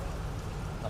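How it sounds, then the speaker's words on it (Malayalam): Heavy rain falling close by as a dense, even wash of noise that stays steady and fairly faint, with no clear voices. "നല്ല മഴയുണ്ട്."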